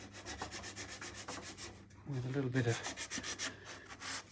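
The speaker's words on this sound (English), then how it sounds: "tiny sanding pad, a little cork, flexible bit of cork" Steady rhythmic rubbing of a small flexible cork sanding pad across a wooden guitar neck, close and scratchy, with someone speaking quietly over part of it.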